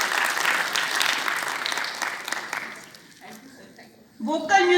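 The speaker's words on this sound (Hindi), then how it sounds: "जोरदार तालियां बजनी चाहिए" Applause from an audience at a state-level school arts festival awards ceremony, a dense steady wash of clapping that thins out midway, then gives way to a louder voice near the end.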